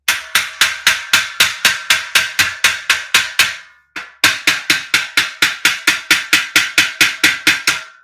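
Sharp, loud hammer blows striking steel shelving unit parts during assembly, a steady rapid series of evenly spaced metallic knocks, a brief pause, then another even run of strikes.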